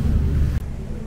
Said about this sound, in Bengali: আজকে প্রচুর বাতাস